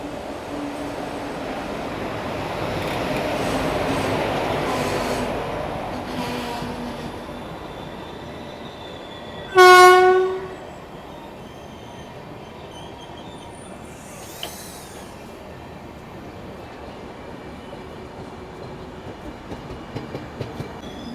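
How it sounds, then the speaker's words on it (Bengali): Down Jagannath Express passing Jaleswar railway station at dawn: a steady rumble of rail cars rises and fades, with a sharp horn-like tonal blast midway and faint wheel noise after, heard fairly near. "আর এটা হচ্ছে ডাউন জগন্নাথ এক্সপ্রেস।"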